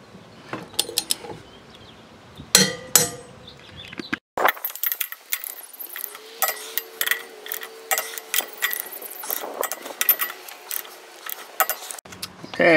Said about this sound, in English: we'll set our torque wrench to 120 foot-pounds, and then go ahead and torque all of them in a star pattern